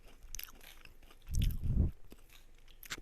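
Close, crunchy chewing of green grasshoppers fried in oil with salt and MSG, with two loud crunching bites in the middle over quiet background noise.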